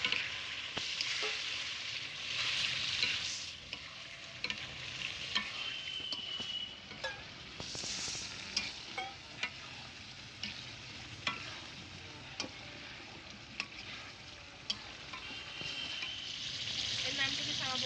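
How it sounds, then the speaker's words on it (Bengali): Marinated chicken sizzles and fries in a pan on a rooftop picnic, with steady hissing and repeated clinks and scrapes of a spoon stirring it, close and fairly continuous with no talking. "এখন সেই ম্যারিনেট করে রাখা চিকেনটা এর মধ্যে দিয়ে কষিয়ে নেব"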